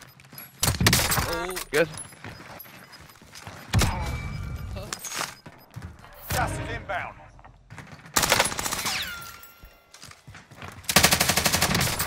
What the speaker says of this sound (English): Oh, my God, I'm shooting you, bro.